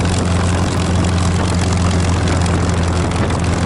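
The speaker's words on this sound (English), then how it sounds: "we're taxiing over to the ramp to do our run-ups, pre-takeoff checks." A Supermarine Spitfire's piston engine and propeller drone loud and close while the warbird taxis to the ramp at Gatineau Airport, a steady deep rumble with no voices.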